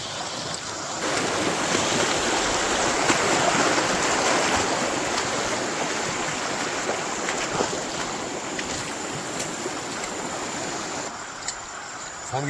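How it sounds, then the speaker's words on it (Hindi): A small river flowing over smooth stones on a forest walk, a steady broad rushing and gurgling of water that stays continuous and fairly close throughout, with no talking. "जंगल नहीं है, ये नदी है नदी।"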